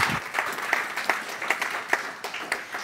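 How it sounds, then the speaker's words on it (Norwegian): An audience at a climate breakfast debate claps together, a steady patter of many hands with scattered louder claps, close and sustained for a few seconds. "så da vil vi bare gi deg en applaus til"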